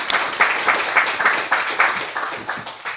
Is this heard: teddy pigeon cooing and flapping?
no